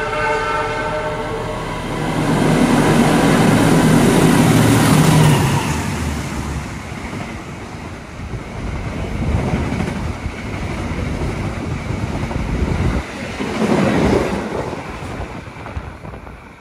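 A train rushing through Wates station on Java, heard from aboard another train: a loud horn blast opens, followed by a roaring rush of passing wagons and rattling rail noise that rises and falls.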